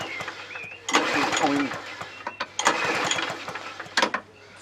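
A Hayter 43 lawnmower engine, hydrolocked or seized, being pulled over several times with its starter cord, giving bursts of cranking and rattling with short pauses between pulls, close by.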